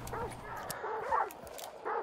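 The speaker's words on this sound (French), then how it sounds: "Il y en a d'autres, j'entends des chiens." Dogs barking and yipping in the hunting game Hunt: Showdown, a few short barks and whimpers at middle distance amid ambient game noise.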